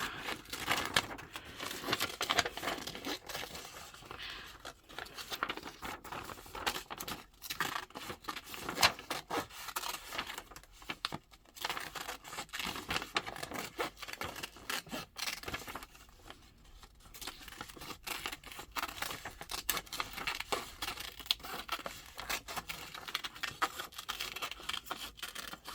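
Continuous close rustling and snipping as paper is cut to trim a name off a lapbook piece, an irregular stream of soft scraping, crinkling and blade strokes with brief pauses, fairly quiet.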